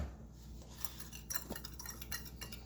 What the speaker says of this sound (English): Now what I want to do now is whisk this together.